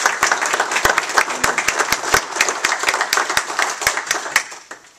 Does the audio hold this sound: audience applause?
yes